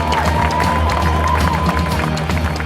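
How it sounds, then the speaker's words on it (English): Wedding guests at a vineyard ceremony clap and cheer after the couple's kiss, a loud, close, continuous mix of applause and whoops from a crowd. "They're clapping because they want another one."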